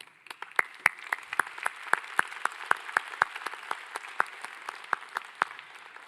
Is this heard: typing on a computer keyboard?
no